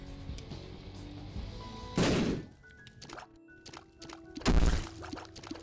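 Two heavy bomb blasts in The Binding of Isaac boom out about two seconds apart, each a sharp thudding burst over quieter game sounds and music.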